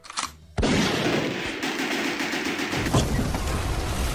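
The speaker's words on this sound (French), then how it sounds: "Maintenant, Tanner va prendre n'importe quelle autre arme" A burst of rapid gunfire from an assault weapon hits a taxi in the Driv3r video game, a sharp loud onset followed by a dense, sustained rattle of shots with a high metallic ring, no speech.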